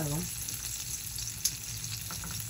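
Cornmeal-coated fish frying in olive oil with herbs, a steady close sizzle and crackle running the whole time, with one brief sharper pop midway and no talking.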